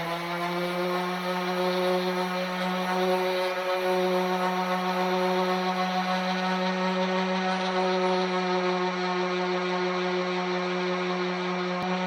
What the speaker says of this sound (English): We're going to start with the 80 grit sandpaper.